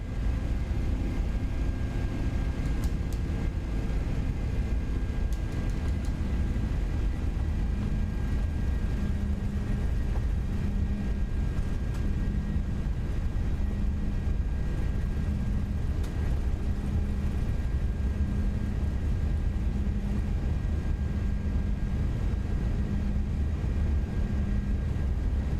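Jet engines of a Boeing C-17A Globemaster at takeoff power in MSFS 2024 make a steady, loud, continuous roar with a droning hum. The roar holds without pause for the whole stretch, with no talk.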